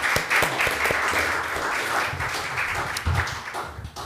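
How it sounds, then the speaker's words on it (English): Audience applause at a school board meeting, a steady patter of many hands clapping in a hall, moderately loud and continuous without talk over it. "So that deserves a round of applause too, I think."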